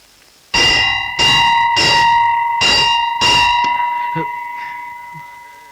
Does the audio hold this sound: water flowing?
no